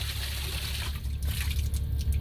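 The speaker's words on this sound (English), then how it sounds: "the water naturally flows out of the top of the well at probably 8 to 10 gallons a minute" Water flowing naturally out of the top of an artesian well, about 8 to 10 gallons a minute, a steady close trickling and gushing wash with low rumble, continuous throughout.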